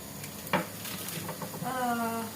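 Fatty salami sizzles softly in a pan as it melts, a faint crackle under a utensil clack and stirring, with a brief voiced sound near the end.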